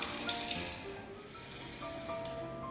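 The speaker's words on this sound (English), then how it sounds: "So you just keep spraying and see if you miss any spot." Aerosol dye sprays onto satin pointe shoes in a continuous close hiss, steady and fairly faint, with a few faint tonal hums in the background.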